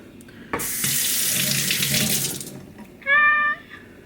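Water is poured into a small plant propagation jar, a steady, close splashing stream lasting about two seconds, followed by a brief cat meow.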